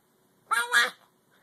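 A voice imitates a duck with two quick quacking calls in a row, loud and close, with silence on either side.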